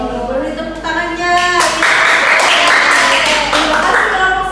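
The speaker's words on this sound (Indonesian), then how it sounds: "Beri tepuk tangannya." A classroom of students claps together in a loud burst of applause that swells and holds for a few seconds, following a teacher's spoken voice at the start.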